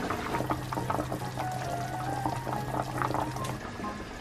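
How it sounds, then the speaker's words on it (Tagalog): Liquid, the broth of a Bisaya-style adobo, bubbling at a steady boil in an uncovered pot, a continuous busy gurgle with a low hum underneath. "Yan, oh, kumukulo na."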